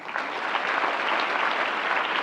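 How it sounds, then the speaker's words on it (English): An audience at a library literary award ceremony gives a brief round of applause, with steady, dense clapping filling the room throughout, without any talk. "Again, a brief round of applause."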